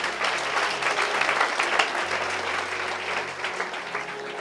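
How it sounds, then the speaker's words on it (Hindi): An audience at a Christian sermon breaks into full applause, a dense, continuous burst of clapping that holds steady for several seconds. "आए यीशु की कुदरत के लिए भरपूर तालियां बजाएं।"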